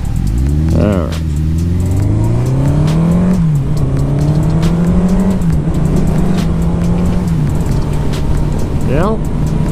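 Forty-year-old carbureted Suzuki GS 750 motorcycle pulling hard on a ride, its engine loud and close, rising in pitch through a gear, dipping at a shift and climbing again, with wind rush throughout.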